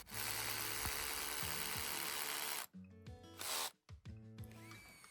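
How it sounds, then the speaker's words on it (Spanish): A Parkside PABH 20 cordless hammer drill in hammer mode grinds loudly into concrete, then stops and starts in short bursts with rattling, gritty motor noise. "Taladrar hormigón y bloque con el modo percutor."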